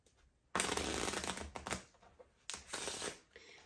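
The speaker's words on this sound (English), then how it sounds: "so I'm just going to mix the cards up like this." A pack of playing cards being shuffled by hand in two bursts: a sustained riffling flutter, a short pause with a few light taps, then a second riffle, close and fairly loud with no talking.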